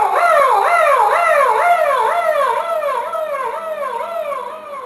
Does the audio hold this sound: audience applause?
no